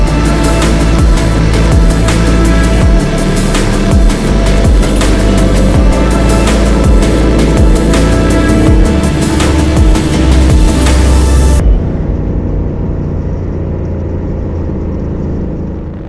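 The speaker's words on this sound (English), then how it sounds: "There's the next band of cars to go out by the looks of it" Aston Martin cars, Vantage models among them, pull out onto the Silverstone circuit in a parade lap, engines droning loudly and steadily with passing whooshes before the sound drops away.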